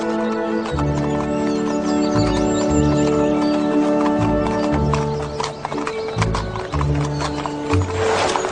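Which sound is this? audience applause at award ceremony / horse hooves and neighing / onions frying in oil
horse hooves and neighing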